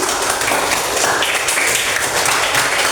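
Classroom of students applauding after a group presentation, a steady wash of many hands clapping, fairly loud and close without speech.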